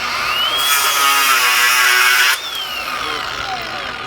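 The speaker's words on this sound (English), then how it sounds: "this is the Flex Razor Slice cutoff disc at 24 thousandths of an inch thick" A 4.5-inch Flex Razor Slice cutoff disc, 0.024 inches thick, cuts through metal with a loud, close, high-pitched grinding whine that rises and then stops abruptly, leaving the grinder to spin down.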